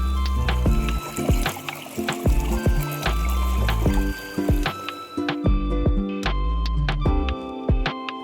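Water flows and trickles near Sukreshwar temple in Guwahati, a close, continuous burbling stream with sharp ringing tones recurring over it and no speech.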